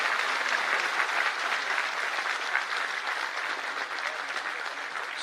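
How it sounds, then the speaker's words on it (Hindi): A large audience at a government job fair in Bhopal claps steadily to welcome a guest, an even, continuous roar of applause with no pauses or speech. "हम सभी तालियों के साथ करेंगे अभिवादन"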